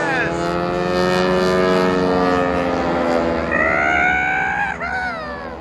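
Aeroshell Aerobatic Team airplanes fly overhead at the Rose City Airfest airshow, their loud droning engines rising and falling in pitch with sweeping harmonic bends as they pass, and a voice talks over them.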